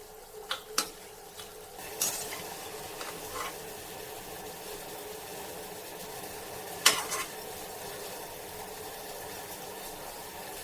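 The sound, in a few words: chhena jilipi frying in a wok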